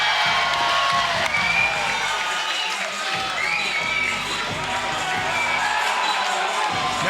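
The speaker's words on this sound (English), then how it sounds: "Now we know what it takes to make the crowd go crazy in the overtime round." A boxing crowd in Houston roars during the overtime round of Gio Marquez vs Jason Limon. Dense, sustained cheering and shouting from a large arena audience fills the whole stretch, loud and unbroken.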